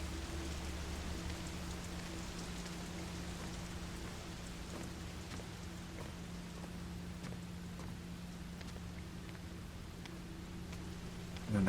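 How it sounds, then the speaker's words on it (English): Rain pounds a thin window pane in the Fatal Frame: Maiden of Black Water video game. The patter is a steady, fairly quiet wash over a low hum, with no voices. "Rain is pounding the thin glass of the window."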